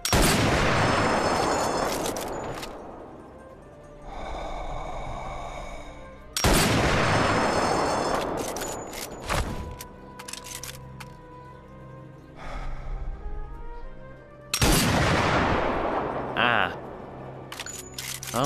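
Three loud, sharp sniper rifle shots in the Sniper Elite VR video game, each followed by a long echoing tail and mechanical bolt and handling clicks in between.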